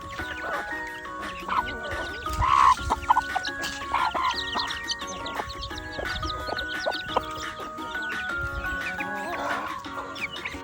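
Hens cluck and chatter steadily nearby, with occasional louder squawks and faint background voices.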